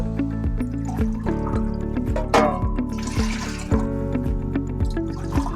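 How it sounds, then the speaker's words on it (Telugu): Water poured into a pot of rice for mandi, a gurgling, splashing pour with hollow tonal ringing from the vessel and a few clinks, close and steady. "రైస్కి తగ్గట్టుగా వాటర్ అయితే వేసుకున్నాము."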